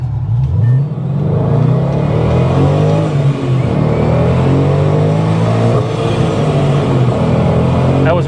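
Loud, close engine note from a supercharged 600-plus horsepower Procharged Mustang GT climbing through the revs to redline, a rising rumbling drone that holds near the top, with excited talk over it.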